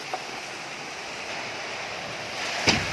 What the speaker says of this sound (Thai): ลมแรงอยู่ค่ะทุกคน